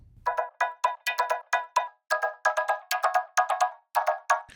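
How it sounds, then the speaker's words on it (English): Pitched-up vocal chopped into tiny beat-synced slices and run through a vocoder in Ableton, giving a rapid stutter of short bright metallic stabs in a steady rhythm, played alone. "I pitched up the vocal, set it to beats so that it was giving me really tiny slices, and I put a vocoder over it."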